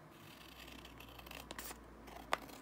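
Scissors cutting paper while trimming vintage ephemera for a holiday folio: a few soft snips and rustles leading to one sharp, crisp cut near the end, close and faint.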